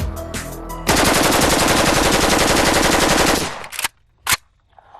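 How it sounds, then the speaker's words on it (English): An AK-47 Kalashnikov rifle fires one long, loud, close automatic burst of about three seconds, with a few shorter shots before and single sharp shots trailing off after. "Firing 600 rounds per minute and effective to 300 yards, the AK-47 performs"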